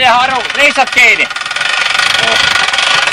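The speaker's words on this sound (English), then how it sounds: "started up the engine" A winch engine starts up to raise a 160-meter rotary antenna array, its steady mid-pitched running drone settling in after voices talk over the opening second.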